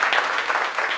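A conference audience claps in a steady, broad wash of applause, moderately loud and unbroken through the short moment.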